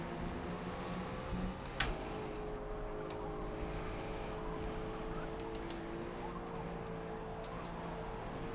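Forza race car engine held at steady revs while the throttle is feathered up a hill, a continuous droning hum with small pitch wobbles and a brief blip early on.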